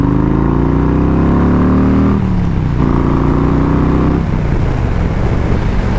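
Harley-Davidson Road King motorcycle accelerating in second gear at around 30 mph, a loud close engine roar rising in pitch, dropping briefly at a shift, then climbing again, with no talking over it.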